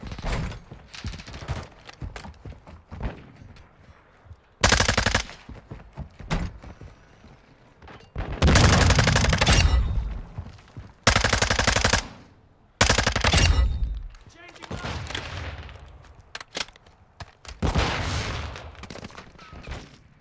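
An SMG fires in the video game Modern Warfare 2 in several loud, rapid bursts of automatic fire, separated by quieter gaps with softer in-game noise.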